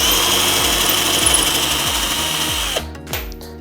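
A Harbor Freight DrillMaster cordless drill drives a screw in a loud, steady whining run that sweeps through repeated pitch ramps, then cuts off abruptly, leaving a few faint clicks and a short trailing burst.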